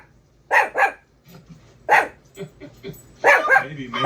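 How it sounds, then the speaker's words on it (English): A dog barks repeatedly at close range, loud sharp barks in pairs and clusters with short pauses, some softer yips and whimpers between them. "You just want to bark."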